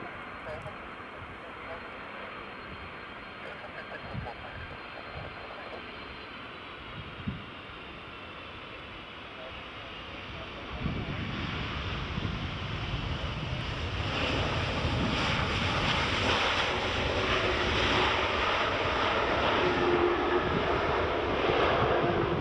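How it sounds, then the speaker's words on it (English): A Delta Boeing 767 arriving from Atlanta lands at Edinburgh Airport on a breezy day. Its jet roar swells from a distant wash into a loud, sustained rumble as it passes, with wind buffeting the microphone throughout. "Delta 767 from Atlanta, here it is."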